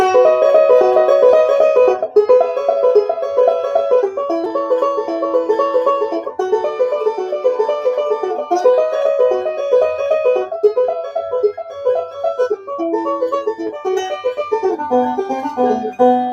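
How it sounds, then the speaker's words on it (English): Steady banjo rolls picked in harmony, a bright continuous stream of plucked notes moving through chord changes, played alone and close. "you have an instant harmony banjo part"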